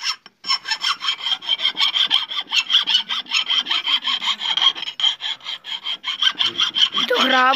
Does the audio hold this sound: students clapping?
no